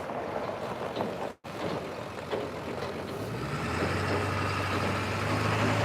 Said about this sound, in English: Got somebody driving by